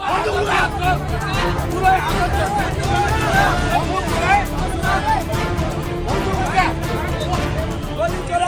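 Dense street protest crowd in Nepal, angry people threatening police, a steady roar of babble and shouting voices with traffic-like rumble underneath, continuous and close throughout.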